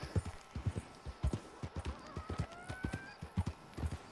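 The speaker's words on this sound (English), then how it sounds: "This horse is about to die." Horse hooves clip-clop in the video game Red Dead Redemption 2, a quick steady rhythm of close hoof strikes on hard ground, with a faint whinny partway through.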